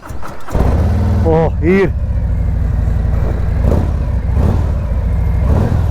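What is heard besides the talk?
Harley-Davidson Road Glide 2026 motorcycle engine starting and revving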